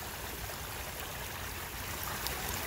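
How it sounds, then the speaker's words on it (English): Running water rushing and trickling in a steady, dense wash, like a stream or flowing surf, continuous and fairly even with no other sounds above it. "I never grow tired of the sound of water."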